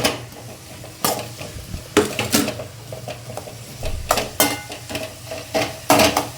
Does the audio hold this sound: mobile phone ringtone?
no